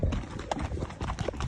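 Horses' hooves clip-clop on a steep trail near Kaindy Lake in Kazakhstan, irregular close steps mixed with rustling and shuffling as riders arrive.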